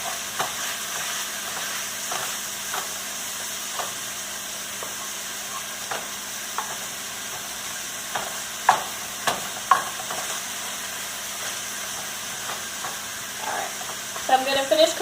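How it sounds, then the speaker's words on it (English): Beef for stroganoff fries in a pan with a steady close sizzle and hiss, punctuated by scattered scrapes and taps of stirring, a few clinks near the end. "the reason I cook my beef first is the beef is to render out some fat"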